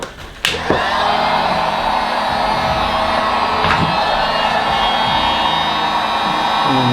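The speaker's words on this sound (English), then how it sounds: "When you're done, cover the exposed wire with the heat shrink tubing. Break out your heat gun." Heat gun shrinking heat shrink tubing over an exposed spliced wire during turn signal wiring: a loud, steady blowing roar like a hair dryer starts after a short click and runs continuously, with a few small knocks.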